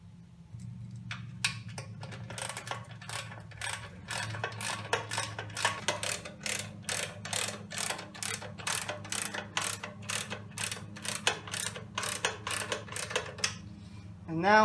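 A hand ratchet tightens bolts onto the oil pan studs of a 2JZ engine, clicking in a quick, regular run of sharp ticks close by over a low hum, with a voice talking briefly.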